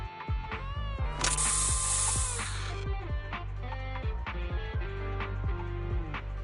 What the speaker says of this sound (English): Here, have a taste of this special bamboo spray.